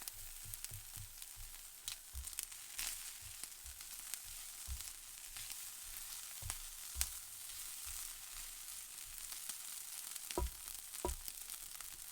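Turkey bacon and peppers fry in a pan for breakfast wraps, a steady soft sizzle broken by occasional louder pops and utensil clicks, with no talking.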